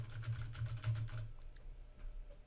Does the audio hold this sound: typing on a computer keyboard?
yes